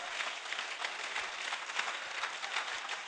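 A church congregation claps hands in steady praise during a worship service, dense rhythmic applause sustained throughout with no talk over it.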